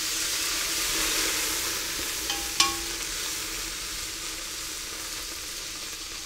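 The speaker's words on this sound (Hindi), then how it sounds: "प्याज ब्राउन हो गया है, प्याज और अभी इसमें लहसुन अदरक डाल देंगे।" Browned onions fry in a pan for Punjabi pilau rice as garlic and ginger go in, giving a steady, close hiss of sizzling oil with one sharp clink of a utensil partway through.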